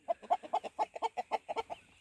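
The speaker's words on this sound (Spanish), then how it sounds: "Un gallo nos está saludando." A rooster among chickens at a farm in Chile gives a rapid run of about a dozen evenly spaced, loud clucking calls, close by and with no talking over them.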